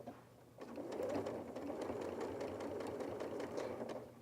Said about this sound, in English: I'm sewing this part with a running stitch.